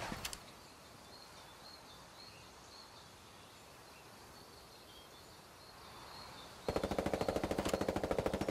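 Rapid machine gun fire erupts in Ghost Recon Wildlands after a quiet stretch of ambient outdoor noise and faint birds, a fast, loud rattling burst sustained through the final seconds, near and without talk.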